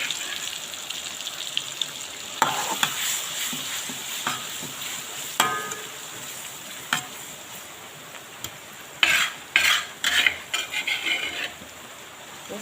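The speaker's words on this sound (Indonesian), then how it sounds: "Ini saya tumis bumbunya ya guys ya, banyak banget." Spice paste for chicken lodho sautéing in a pan with a continuous sizzle, broken by clattering stirs and scrapes, plus a brief run of tap-like water noise near the end.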